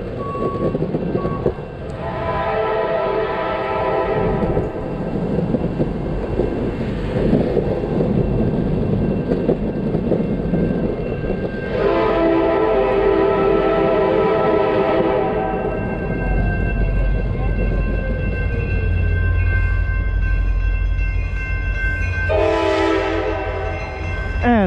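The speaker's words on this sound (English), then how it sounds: "Damn, train." A long freight train rumbles past at a street crossing, its horn sounding in three loud, sustained blasts over the continuous rolling clatter of wagons, with no talking.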